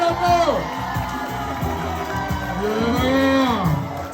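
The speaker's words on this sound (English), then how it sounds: "I need y'all to clap like Trump just got locked up" A party crowd at a birthday comedy show claps, whoops and cheers loudly and steadily, with shouting voices rising over the sustained applause.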